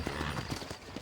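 Horse hooves clip-clop in a Western setting in the video game Red Dead Redemption, a steady, close, moderately loud beat of repeated hoof strikes over about a second with no talk.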